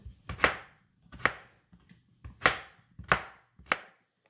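A knife chops through rutabaga on a cutting board, five or six firm, evenly spaced thuds heard close up with quiet pauses between them, no talking.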